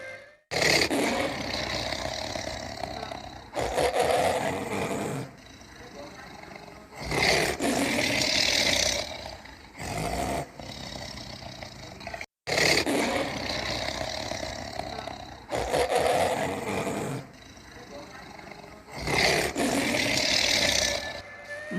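A tiger roars repeatedly in deep, rasping bursts, each lasting a few seconds and separated by short gaps, loud and close with no voices.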